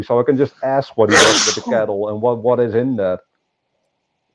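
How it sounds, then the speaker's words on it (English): A single sharp human sneeze bursts out in the middle of a man's ongoing speech, close and loud, with his talking continuing right after. "Bless you for whoever sneezed."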